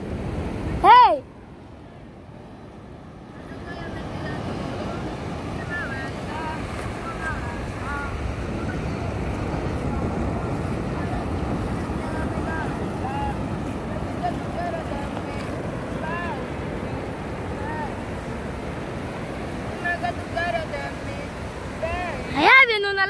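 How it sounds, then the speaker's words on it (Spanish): A motorboat (lancha) approaches off the beach at Playa El Saite, Barra de Santiago: a steady broadband rumble blends with wind and surf for most of the stretch, and brief shouted voices come at the start and end. "Allá viene una lancha, mire."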